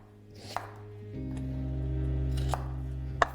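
Raw potatoes being cut into wedges with a kitchen knife: three sharp, well-spaced knife strikes on a board, moderately close, over a steady low background hum, with no talking.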